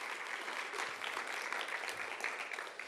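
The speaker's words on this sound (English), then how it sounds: "You clap for her." An audience at a National Teach Ag Day live event claps steadily for a few seconds, a soft, dense patter of many hands heard from some distance and tapering slightly at the end.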